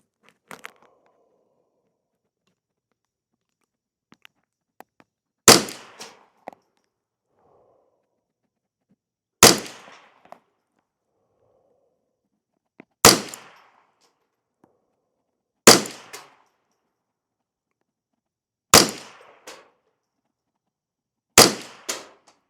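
CCI Standard Velocity rimfire rounds lubed with Minwax fire six times, each a sharp, loud crack spaced a few seconds apart, with quiet pauses and faint handling noise between shots.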